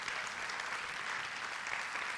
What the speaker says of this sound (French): Est-ce que vous voulez bien les applaudir?